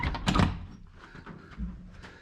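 A door at a Bibbulmun Track hiking hut is opened close by with a single wooden thunk and rattle, followed by a softer settling knock.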